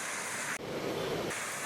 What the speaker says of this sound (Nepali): यहाँ चाहिँ झर्ना छ यहाँनिर पौडी खेल्ने ठाउँ पनि छ